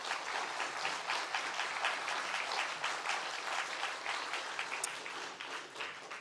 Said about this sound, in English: I think they deserve a round of applause as well.